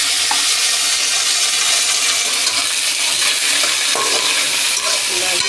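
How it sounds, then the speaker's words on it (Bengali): Vegetables fry in a pan with a steady, loud sizzle while a utensil stirs through them, scraping and clinking now and then, close up and with no talk. "নাড়িয়ে চালিয়ে নেব"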